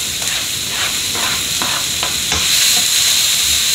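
Onion, carrots and bell pepper roast in a pan, giving a loud, steady close sizzle broken by a series of light stirring scrapes, with no voices.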